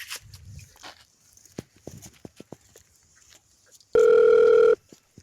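A steady electronic telephone tone sounds for under a second near the end, following quiet shuffling and faint knocks.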